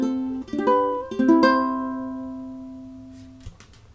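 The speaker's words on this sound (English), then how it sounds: "It's just taking the thumb and dragging it downwards across the strings." Ukulele strings swept downward with the thumb, sounding as two soft strums close together, then one sustained chord that rings out slowly and fades under a light background hiss.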